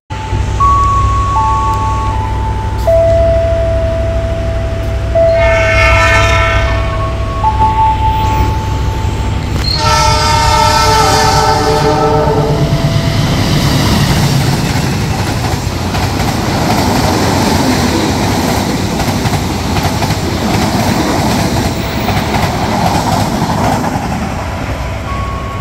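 The Argo Muria train passing through Tanjung station, a loud horn sounding in several long blasts over the heavy steady rumble of the rolling train nearby.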